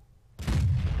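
A T-54 tank's main gun fires a single shot in World of Tanks, a sudden loud boom followed by a sustained rumbling roar that stays heavy and close.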